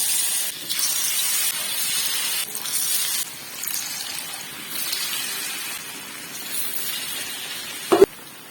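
Potato pakoras deep-frying in hot oil, a dense hissing sizzle that swells and eases in waves, close and steady, ending with a sharp knock.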